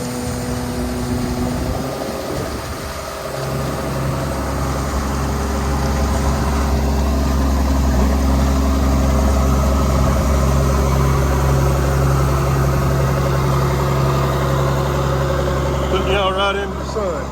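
A tractor engine idles steadily through a corn harvest, a loud, continuous low drone with strong harmonic hum that runs close and unbroken throughout, with a brief shift near the start.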